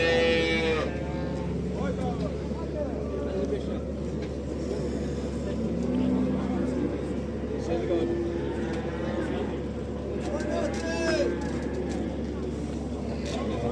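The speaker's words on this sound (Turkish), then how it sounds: "Kardeşim bak böyle bir ineği var." Cow on a farm lowing several times, drawn-out moos spaced through the scene, with people talking nearby and a constant low engine hum in the background.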